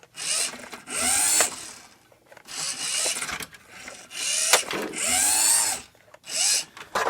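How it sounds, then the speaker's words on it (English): The single driven wheel of a vintage Radio Shack Ferrari 49 RC toy car spins against a slippery tabletop, several close whirring, rubbing bursts that rise and fall in pitch with short pauses between them. "So it's peeling rubber here, see? So it's not actually slow. It's just it's spinning on a slippery table."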